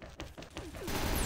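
An assault rifle with the Diamond Dust-Galaxy skin fires in the shooter game XSHOT: four sharp, evenly spaced single shots, then a louder continuous burst of rapid fire.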